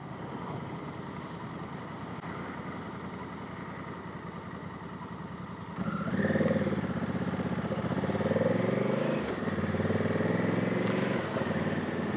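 A Honda motorcycle ridden along a road, its engine a steady mid-pitched drone that rises and thickens partway through as the rider speeds up, with wind rush throughout.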